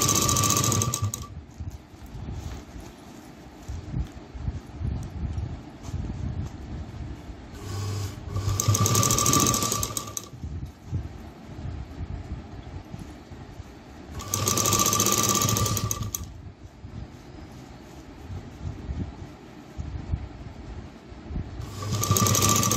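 A sewing machine runs in bursts of steady, rapid stitching while sewing a runner onto fabric, with quieter mechanical handling and pauses between the loud runs.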